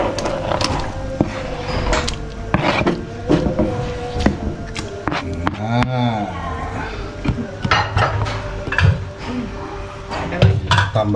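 Chunks of goat and beef clatter and slosh into a soup pot, with utensil clinks and scraping between moments of talk.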